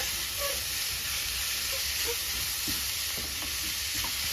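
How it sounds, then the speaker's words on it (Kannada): Green chillies frying in a pan for samosa stuffing, a steady close sizzle and hiss with light stirring scrapes, no talking. "ಇವಾಗ ಇದನ್ನ ನೀಟಾಗಿ ಫ್ರೈ ಮಾಡಿಸ್ಕೊಂಡು"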